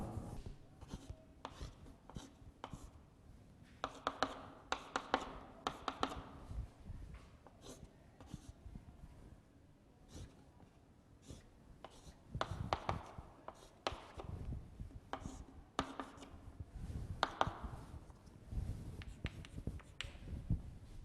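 Chemistry notes being written by hand, a faint, intermittent scratching and tapping of pen strokes in irregular bursts, heard alone without talk.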